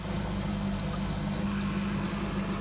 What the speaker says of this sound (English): I've got the water coming in, so it comes through that pipe there.